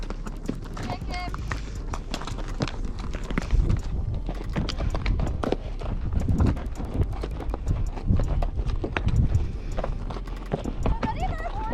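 Several horses ridden through the desert, hooves clip-clopping in a busy uneven rhythm close by, with riders talking over the steady hoofbeats.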